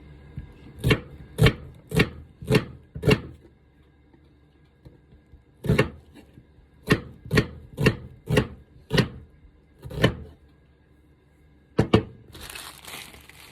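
A knife slicing a Bombay onion on a cutting board in a home kitchen in Japan, crisp separate chops in quick bursts of four or five, pausing between runs, close and clear with no talk.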